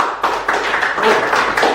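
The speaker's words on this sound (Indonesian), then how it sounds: "Oke, berikan aplaus." An audience claps at a lecture session for lecturer certification, producing a steady wash of close hand claps that runs the whole time without clear breaks.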